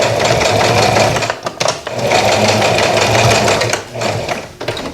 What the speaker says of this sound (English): I'm going to pivot this now and sew straight up here